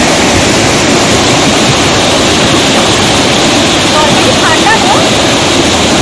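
Fast-flowing water of the Rishi River in East Sikkim rushes steadily and loudly, a dense unbroken roar filling the scene from near at hand.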